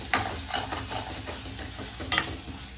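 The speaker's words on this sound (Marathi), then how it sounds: "आता मस्त मिक्स करून घेऊया आपण सर्व." Turmeric, masala and salt get mixed in a hot pan with a spoon, giving short scraping stirs over a soft sizzle and two sharper clinks near the end, close and brief, with no speech.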